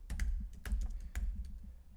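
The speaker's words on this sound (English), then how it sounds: "as we're typing in it" Close, clattering keystrokes on a computer keyboard, typed in uneven bursts with a few louder thumps and short pauses between them.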